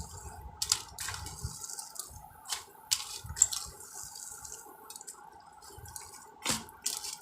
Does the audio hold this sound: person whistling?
no